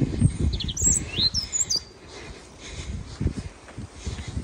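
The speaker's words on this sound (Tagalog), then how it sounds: "Ang ganda ng huni ng mga ibon ba." Several high, quick bird chirps near the start, fairly close, followed by quieter outdoor rustling and soft thumps.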